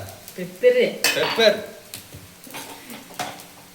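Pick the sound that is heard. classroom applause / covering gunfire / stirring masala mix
stirring masala mix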